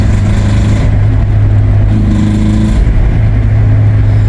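A car engine with a blown head gasket runs loudly up close with a steady, rhythmic mechanical tapping knock beneath its low rumble.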